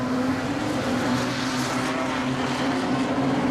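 Modified sedans race around Kingaroy Speedway's dirt oval, a dense wash of engine roar from several cars at once, steady and loud throughout without any commentary over it.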